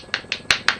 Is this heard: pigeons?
no